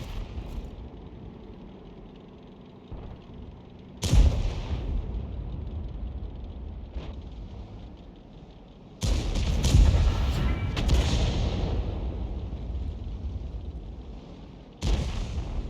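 Artillery shells firing in World of Tanks, three heavy booming blasts spaced apart, each followed by a long rumbling decay, with faint talk at times.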